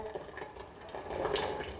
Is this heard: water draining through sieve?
yes